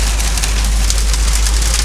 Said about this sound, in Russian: А может, это и град все-таки мелкий.